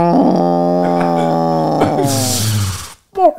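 A human voice imitates a whale call that comes out sounding like a dog, a loud, sustained growling, moaning tone for about three seconds, ending in breathy noise and a short vocal trail.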